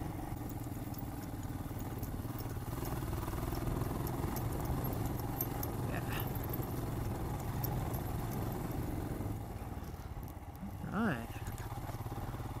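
A motorcycle engine drones steadily on a chilly evening ride along a country road, a continuous low rumble with wind noise throughout and a brief rising rev near the end.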